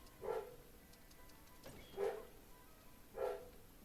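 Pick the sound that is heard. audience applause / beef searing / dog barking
dog barking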